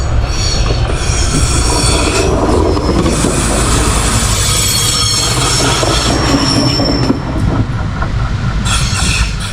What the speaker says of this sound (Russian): Сейчас будем встречать поезда.